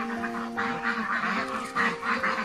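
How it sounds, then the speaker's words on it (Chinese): A flock of a few dozen young ducks quacks on a rural farm in the evening, the calls overlapping in a steady, fairly close chorus with no talking. "这是那一群年轻的鸭子"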